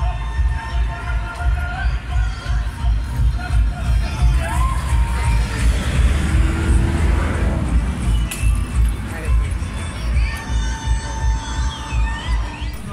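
Cars race past a cheering, shouting crowd at a street event, the roar of passing engines swelling and fading beneath steady crowd noise and scattered voices over about thirteen seconds.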